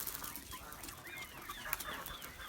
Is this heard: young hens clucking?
yes